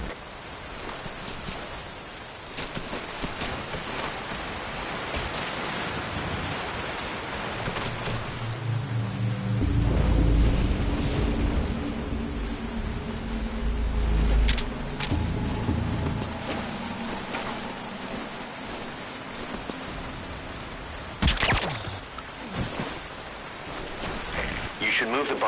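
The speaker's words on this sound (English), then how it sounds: "Rain just won't let up." Steady rain pours in Metal Gear Solid V: Ground Zeroes, a continuous hissing wash of drops with low rumbles and brief sharper bursts mixed in, and a voice talks over it partway through.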